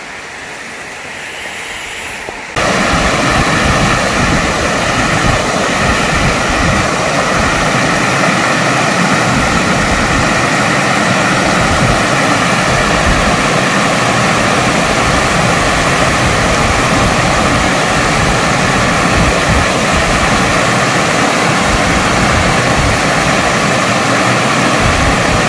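A waterfall on Seongchisan mountain in Geumsan roars with a loud, steady, broadband rush of falling water that continues unbroken throughout.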